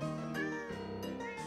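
A pet cat meows nearby indoors, giving a couple of drawn-out, wavering tonal calls that sound close and fairly soft.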